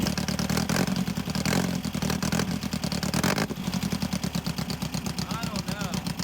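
An abandoned dune buggy engine runs at higher RPM with a rough, clattering, pulsing rhythm up close, while people talk over it.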